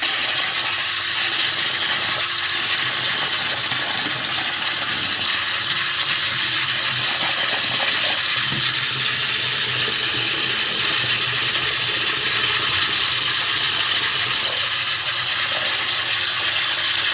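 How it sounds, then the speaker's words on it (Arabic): Rice is washed under a running tap, and the water pours and gushes steadily into the pot for the whole stretch, close and loud. "نبتدي نغسل الرز علشان ايه هنحتاجه بعد ما البصل يتحمر."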